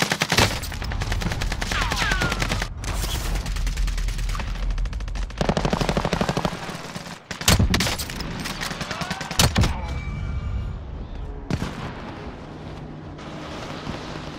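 Gunfire in a video game: dense bursts of automatic fire and single shots come in loud, closely spaced volleys, with short breaks between them and a few sharp bangs near the end.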